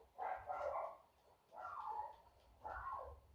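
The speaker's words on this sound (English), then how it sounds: "Neighbours' dogs." Neighbours' dogs bark outside on a hot day, three separate bursts of barking at a moderate distance drifting in through open doors, with no talk over them.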